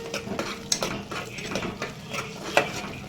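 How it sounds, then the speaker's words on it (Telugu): Ginger garlic paste frying in a pan while it is stirred, light clinks and scrapes of a spoon on metal over a faint sizzle, irregular and close, without talking. "ఈ అల్లం వెల్లిపాయ పేస్ట్ కూడా మంచిగా పచ్చివాసన పోయేదాకా ఫ్రై చేసుకోవాలి"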